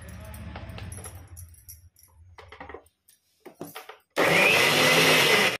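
Quiet clinks and handling noises lead into a blender whirring loudly and steadily for a brief final burst as it mixes milk for panchamrit.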